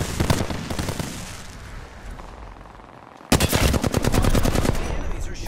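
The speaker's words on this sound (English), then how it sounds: "The enemies are shooting him." Enemy gunfire in the Apex Legends video game: rapid automatic bursts crack out up close, fade to a lull, then resume as a sustained loud stream of fast shots.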